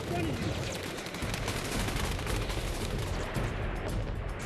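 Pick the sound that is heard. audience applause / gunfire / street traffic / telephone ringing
gunfire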